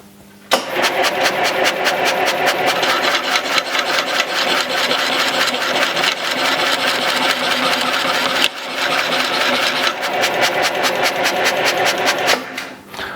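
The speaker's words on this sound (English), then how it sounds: "And I'm sure you could hear the air pump." An air pump inside a Pius die filer machine starts abruptly and runs with a loud, rapid mechanical chatter, pausing briefly midway and then continuing steadily before winding down.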